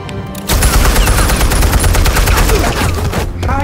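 Dense, continuous gunfire in Batman: The Telltale Series, loud and close, rolls as a blurred rapid volley from a quiet start until it tapers off at the end.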